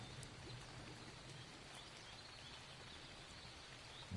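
Steady rain falls in Ark Ascended on the Ragnarok map, soaking wooden structures: a constant even hiss of droplets, faint and uninterrupted, with no talking.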